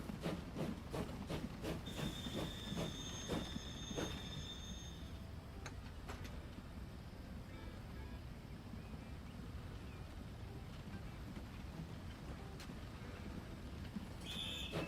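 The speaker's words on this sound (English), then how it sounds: "Obviously we've put the coal train in." A coal train runs in the Transport Fever 2 railway game on a Great Britain map, its wheels clicking rhythmically over the rail joints and squealing briefly along a steady rolling rumble, with no voices over it.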